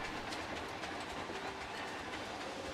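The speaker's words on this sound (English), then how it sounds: "Oh, it's the train." A train rumbles past close behind, a continuous loud roar of rolling wagons with faint clickety-clack, filling the whole stretch with no talk over it.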